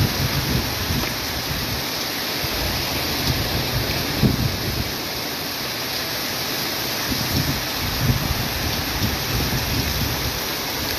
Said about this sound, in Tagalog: ngayon ho malakas na ho ang buhos ng ulan sa kasalukuyan